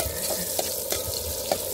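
Food sautéing in a pan at an outdoor beach outing in Rabigh, Saudi Arabia, with a steady sizzle and a few quick stirring clacks spaced through the short stretch.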